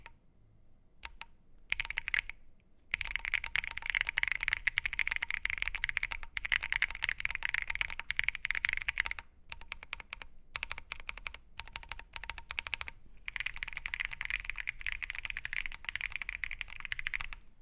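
Fast typing on a Keychron Q15 Max ortholinear mechanical keyboard with a solid metal build and slight metallic ping: dense, rapid, close clacking in long bursts separated by brief pauses, with no talking.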